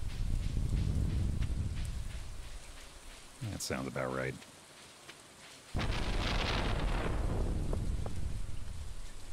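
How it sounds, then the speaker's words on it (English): Steady rain patters and a stormy rumble rolls on during a thunderstorm in the farming video game Stardew Valley, continuous and fairly loud, with someone speaking briefly midway. "They're in the middle of a damn lightning storm."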